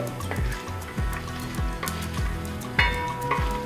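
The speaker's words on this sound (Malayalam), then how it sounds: "1 ടീസ്പൂൺ ചെറിയ ജീരകം, 1/2 ടേബിൾ സ്പൂൺ മുഴുവൻ മല്ലി, 1/2 ടേബിൾ സ്പൂൺ കുരുമുളക്, ഇതെല്ലാം കൂടെ ഇട്ടതിന് ശേഷം നമുക്ക് നന്നായിട്ടൊന്ന് റോസ്റ്റ് ചെയ്തെടുക്കാം" Cumin, whole coriander and black pepper roast in a pan for mutton pulao, a soft sizzle broken by repeated scraping stirs and light clinks of the spoon.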